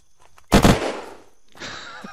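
Gunfire in the military-base area of the video game Unturned: one loud sharp shot burst, a quieter tail and a second softer report, with no talk over it.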